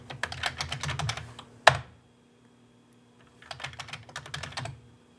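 Keys clatter on a Commodore 64 keyboard in two quick bursts of close, crisp typing, split by a louder single clack and a short quiet gap.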